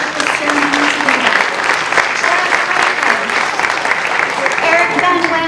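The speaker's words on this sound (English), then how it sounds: "please stand because you deserve a big round of applause" A crowd applauds steadily and loudly at an adult education graduation ceremony, dense clapping sustained throughout with a few voices mixed in.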